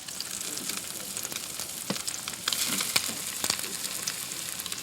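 Fish fillets frying in hot oil, a steady crackling sizzle with occasional louder pops, close up and without talk.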